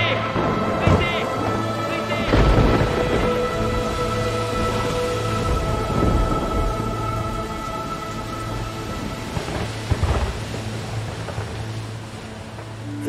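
Rain falls through a thunderstorm as heavy thunder bursts roll in several times. A steady droning music bed and voices run underneath.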